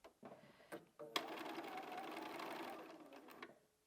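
A sewing machine stitches fabric near the outside edge of a seam on a boat-block cushion, running steadily for about two seconds after a few clicks and short starts, close and clear.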